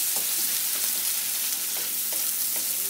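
Chopped onion lightly frying in oil with green chilli and whole cumin: a dense, steady sizzle close by with a few soft stirring scrapes, no speech.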